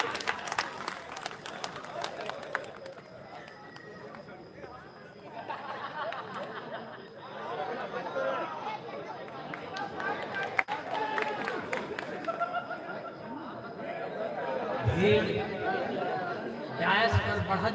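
A mushaira audience in Bhadohi applauds a poet with scattered clapping amid lively crowd chatter and talking voices, the noise swelling and ebbing throughout the hall.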